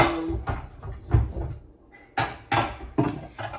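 Cupboard doors and a pot being taken out in a home kitchen: several close knocks and clunks at irregular intervals, with brief rattles between them.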